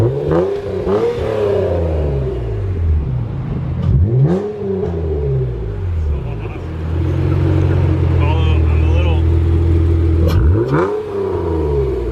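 An Acura NSX engine revs up repeatedly, climbing and falling in pitch with loud throaty swells and throttle body sound, close by and steady in between.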